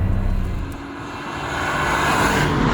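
A modified BMW 135 accelerating hard in a gear pull, a loud engine note that dips briefly then swells steadily in pitch and volume, heard from close by with no talk.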